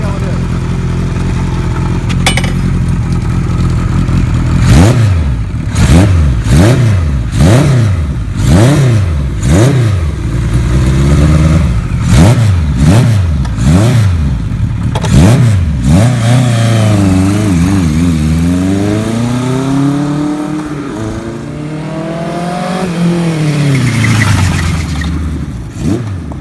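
1976 Kawasaki KZ900A motorcycle ridden up a driveway and back, loud repeated revs with rising and falling engine pitch through gear changes, then a smoother sweeping pass as it returns.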